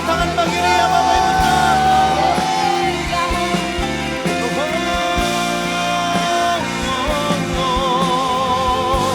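A church congregation at an Indonesian praise and worship service claps and cheers for God, loud shouts and whoops layered over ongoing music and dense crowd noise.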